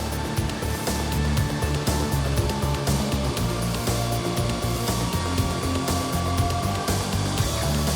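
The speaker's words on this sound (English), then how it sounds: "Bill's going to take it to the Bader sanders and remove the burrs" A Bader belt sander grinds burrs off a steel shield, a dense, loud continuous abrasive roar with steady motor hum and no pauses.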